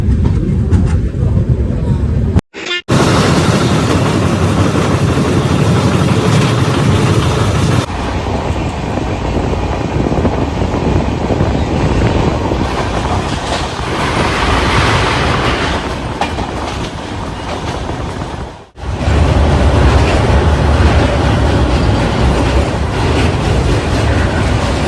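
The Kolkata–Agra Cantt Express running at speed on its way toward Asansol, with a loud, steady rumble and rhythmic clatter of wheels that briefly cuts out and returns; a voice is heard talking now and then.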